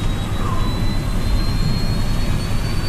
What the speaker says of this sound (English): taking the steps to fire up the second engine